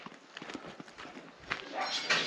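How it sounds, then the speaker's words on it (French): Goats are let out and walk over the ground, their hooves making soft, irregular clip-clop taps at close range against a faint background hiss, growing slightly busier toward the end. "C'est l'heure de sortie des chèvres."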